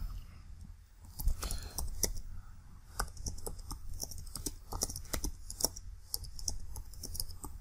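Quick, steady clicking of keys on a computer keyboard, close but quiet, with light irregular taps continuing throughout.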